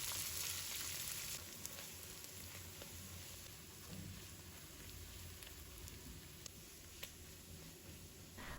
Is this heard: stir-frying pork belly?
yes